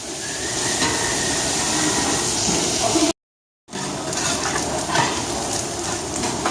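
Onions sautéing over high heat for Turkish sulu köfte, a steady loud broadband sizzle and hiss that drops out briefly in the middle, then resumes just as strongly.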